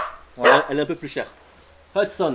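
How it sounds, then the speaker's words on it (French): A neighbour's dog barks in a few short bursts in the background while someone speaks French over it. "c'est le chien de mon voisin"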